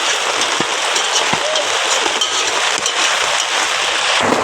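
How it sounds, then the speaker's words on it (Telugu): Heavy rain runs off a tarpaulin shed in a village downpour, a dense, steady hiss of falling water that fills the whole clip at close range and fairly loud. "వర్షం మా పట్టా మీద పడ్డ నీళ్ళన్నీ ఇలా కారిపోతూ ఉంటాయి"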